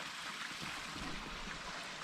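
A small two-foot waterfall in a wooded hollow gives a faint, steady rush of falling water, continuous and even, heard alone without talk.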